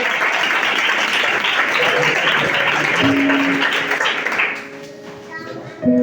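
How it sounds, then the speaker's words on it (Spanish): A church congregation breaks into applause, dense clapping mixed with voices that tapers off near the end as a tone and speech come through. "Un aplauso a la palabra del Señor,"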